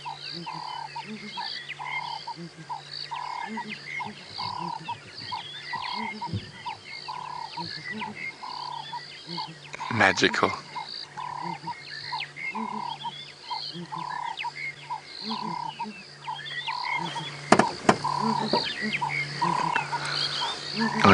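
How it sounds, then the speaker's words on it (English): A morning chorus on an African safari drive, with ground hornbill and monotonous lark among the callers: steady, rhythmic repeated calls overlapping in a dense layered din, with two brief louder noise bursts partway through and a single soft spoken word. "We got quite the cacophony of bird calls going."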